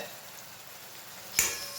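Red chili, turmeric, coriander-cumin powder and salt sizzle faintly in hot oil for dal makhani. A soft steady hiss is broken near the end by a single sharp clink of a spoon against the pan.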